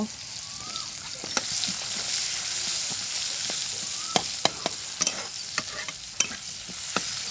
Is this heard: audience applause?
no